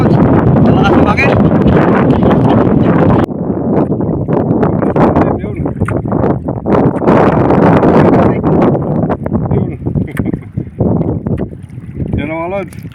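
A gusty wind at sea roars steadily around a small boat on the water while people talk and call out over the rushing noise.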